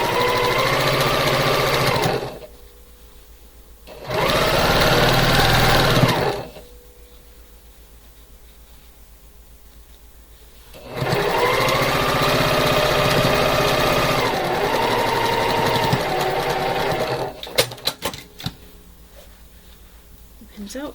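A sewing machine stitches a quarter-inch quilt seam in three steady whirring bursts separated by pauses, close and loud, the longest run lasting several seconds before a few light clicks.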